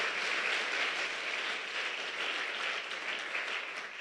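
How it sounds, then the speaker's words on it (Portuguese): A church congregation applauds in a dense, continuous wash of clapping from many people, moderately loud and steady throughout, with no distinct voices on top. "Se você crê, aplauda Ele bem forte nessa noite"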